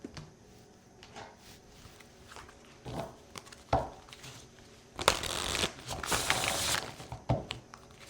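Oracle cards being shuffled, a burst of dense riffling from about five to seven seconds, preceded by scattered soft handling taps and thumps, close and moderately loud with no talk.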